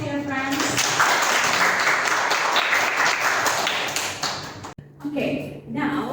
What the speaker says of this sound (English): Please give applause to your friends.